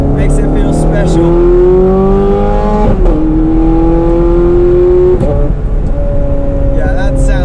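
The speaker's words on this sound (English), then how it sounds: "that sound, we're in race mode right now, so the shifts are a little harder" A Ferrari convertible's engine in race mode, loud and close, revs up through the gears with two hard, abrupt upshifts that drop the pitch before it climbs again.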